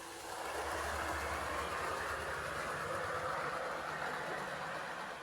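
A steady mechanical rumble and whir of a model diesel locomotive running on a DCC layout, continuous and close, with no voices.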